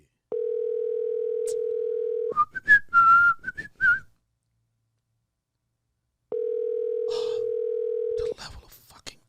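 Ringback tone of an outgoing phone call to a friend's line, two long steady rings separated by a pause, with a brief whistled tune and some noise in the gap between them.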